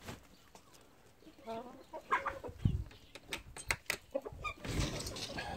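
Hens in a Turkish farmyard cluck in short, uneven bursts at close range, with a sharper squawk and some shuffling and rustling mixed in among the clucks.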